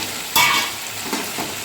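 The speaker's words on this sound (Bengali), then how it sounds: "আমি ভেজে রাখা আলু দিয়ে দিচ্ছি," Fried potatoes are tipped into a pan of simmering chicken curry with potato, giving a sudden loud sizzling splash that settles into a steady frying hiss with a brief second stir.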